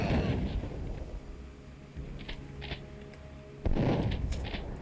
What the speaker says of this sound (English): I'm just gonna blow you all up with rockets.